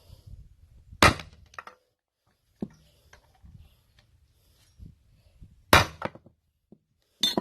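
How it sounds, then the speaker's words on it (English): Sharp metallic hammer blows on a vehicle U-joint ring out in irregular bursts, a few loud strikes separated by quieter taps and clinks, close up. "when you strike with the hammer, it could break this casting"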